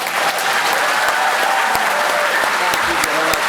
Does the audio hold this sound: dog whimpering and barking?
no